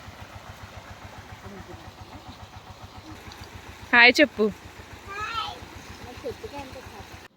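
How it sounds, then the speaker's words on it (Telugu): A farm water pump motor thrums in a steady, rapid pulse nearby while a person speaks briefly over it. "బ్యాక్గ్రౌండ్లో మోటార్ సౌండ్ వినిపిస్తుంది కదా"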